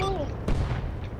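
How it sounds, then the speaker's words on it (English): A single dull, muffled impact of enemy mortar fire in the military game Arma Reforger lands midway through a short stretch of steady rumbling ambience, with a faint descending whistle just before it. "That's enemy mortars."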